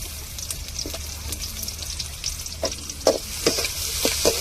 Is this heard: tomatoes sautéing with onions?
yes